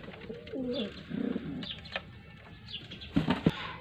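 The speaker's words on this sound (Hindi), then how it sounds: "ये डब वाला कबूतर है जनाब" A pigeon at a pigeon setup in Lahore coos close by in a few short, soft bursts with brief pauses between them, with no speech over it.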